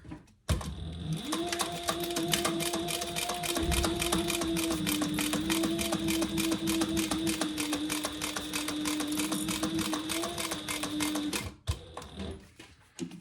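Sewing machine stitching a seam on a fabric eyeglass case, a steady rapid mechanical whir and needle clatter running continuously for about eleven seconds, close and clear, then stopping with a few clicks and no talking.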